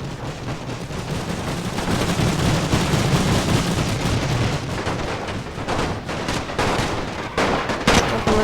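Massed musket volleys rattle through a battle in the game Napoleon Total War, dense continuous crackling gunfire with overlapping shots and sharper bursts near the end.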